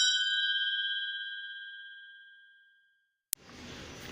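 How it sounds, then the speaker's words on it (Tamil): A single bright bell ding used as a notification sound effect, ringing clearly and decaying slowly over about three seconds before a short click and soft background noise. "பக்கத்தில் வர பெல் பட்டனையும் ப்ரெஸ் பண்ணிக்கோங்க."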